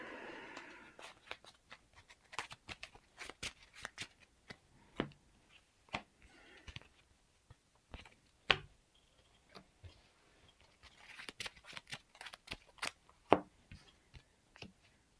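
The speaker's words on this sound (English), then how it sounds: "We have to take 2 cards each and shuffle them in." Marvel Champions cards being shuffled and handled at a tabletop game, heard as close, crisp clicks and light taps scattered throughout, with denser flurries of card snaps toward the end.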